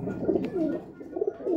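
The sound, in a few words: pigeons released together, cooing and flapping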